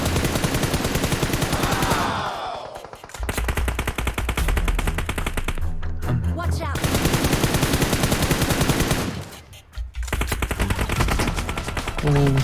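Rapid automatic gunfire in a battle royale duo-squad video game match comes in long, dense, loud bursts, separated by brief gaps, with a few short pauses between volleys.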